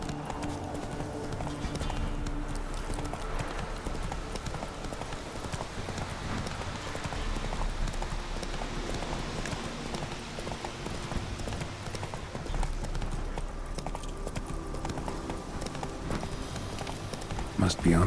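Horse galloping in The Witcher 3, its hooves clip-clopping in a fast, steady rhythm throughout, close and continuous with no pauses.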